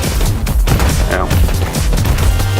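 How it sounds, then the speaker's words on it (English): Loud, dense explosions and bursts of weapon fire from the video game Starward Rogue, a continuous chaotic barrage of booms and crashes throughout. "Lots of explosions."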